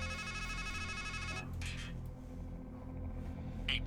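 A telephone rings inside the video game Strangeland, a steady electronic ringing tone that sounds out first and then gives way to dark ambient drones and a few short sharp accents.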